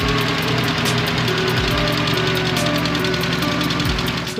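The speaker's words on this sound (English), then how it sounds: "When we open the engine compartment, we can hear the distinctive noise." Car engine knocking with the bonnet open, a steady close idle drone overlaid with fast, even metallic ticking that runs continuously and loudly without pause.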